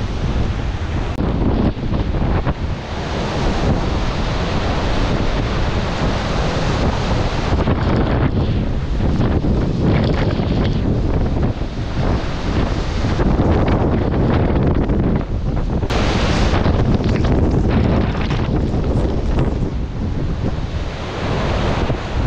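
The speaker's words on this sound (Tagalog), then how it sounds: "Lakas ng tubig dagat oh." Strong sea waves crash under heavy wind, with gusts buffeting the microphone. A loud, continuous roar of surf and wind fills the whole stretch without pause.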